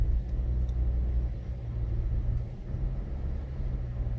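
A car on the road, heard from inside, produces a steady low rumble of engine and tyre noise, continuous and moderately loud, with no talk.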